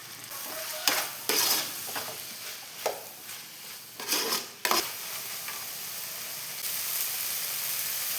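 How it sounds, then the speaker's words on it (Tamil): Onions and tomatoes sizzle and hiss in a hot pan, with several bursts of stirring and scraping over a steady frying crackle. "எல்லாம் சேர்த்து வதக்கிக்கலாம். வெங்காயம் தக்காளி நல்லா வதங்கணும்."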